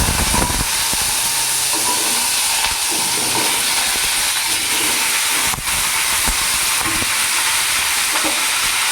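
Panch phoron spices fry in hot oil with large cubed pumpkin and potato for a vegetarian pumpkin ghonto, giving a close, loud, steady sizzle and hiss that runs unbroken throughout with no talking.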